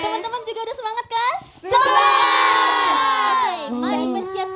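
A crowd at an idol concert cheers and shouts loudly in a sustained, high-pitched collective roar, briefly preceded by a performer's spoken voice calling out to the audience.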